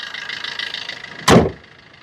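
A single solid thump as the bonnet of a Maruti Ciaz VDI+ drops shut, loud and near, following a few seconds of low steady background hum.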